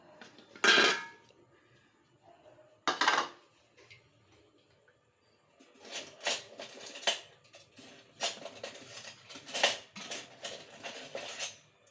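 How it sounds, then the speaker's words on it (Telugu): A spoon scrapes and clinks against a plate and pan while milk upma is served, with scattered sharp metallic taps, a few louder clanks early, then a busier run of clicks and scrapes, and no talking. "దీన్ని మనం ప్లేట్లో సర్వ్ చేసుకుందాం."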